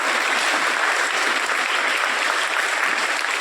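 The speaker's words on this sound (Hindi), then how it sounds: "जोरदार तालियों के साथ स्वागत करें" Loud applause welcoming a visiting district judge at a girls' school: a sustained, dense roar of clapping from a large group, even and strong from start to finish with no voices over it.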